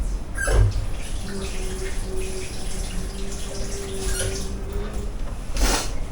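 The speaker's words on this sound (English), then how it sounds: "Let me wash my hands." Water runs from a kitchen tap as hands are washed, a steady close splashing rush with a couple of louder splashes and faint clinks, no talking.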